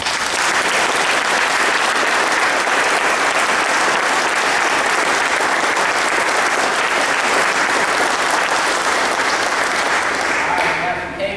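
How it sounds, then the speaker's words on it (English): Loud, dense audience applause at a promotion ceremony, sustained and even for the whole stretch before easing slightly at the end. "So go around and applause my mom."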